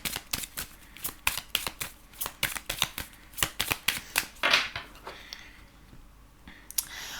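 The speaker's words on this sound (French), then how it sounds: "On va prendre l'oracle du manuscrit. Faire comme le premier tirage." Oracle cards are riffled and shuffled by hand, a rapid series of crisp close flicking bursts in an irregular rhythm, then a softer slide of cards toward the end, with no voices.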